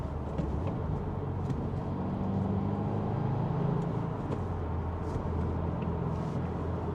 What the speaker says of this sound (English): I like the sound of this engine as well. It's rumbly